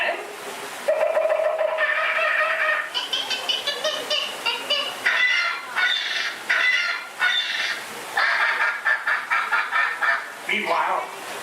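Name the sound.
frenzy of outraged birds in theme park ride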